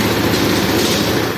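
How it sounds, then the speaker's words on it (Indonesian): A Honda Beat FI motorcycle engine runs steadily at close range, a loud continuous rumble with a rapid, even pulsing. "Motor sudah hidup."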